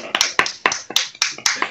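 Sparse hand claps used as an applause effect, six or seven sharp slaps spaced irregularly across a couple of seconds, close and fairly loud with no crowd behind them.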